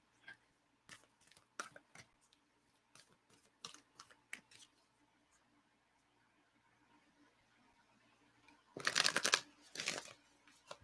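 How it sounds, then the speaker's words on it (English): Tarot cards are shuffled by hand, with scattered soft riffles and taps followed by a loud, close burst of rapid riffle shuffling near the end, and a little quiet talk. "One more shuffle."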